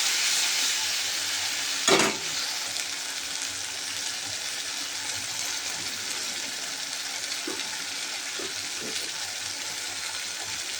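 Mutton curry spice paste of cumin, coriander, red chilli powder, salt and turmeric frying in a pan: a steady hiss of sizzling with one sharp scrape of stirring and a few soft clinks later.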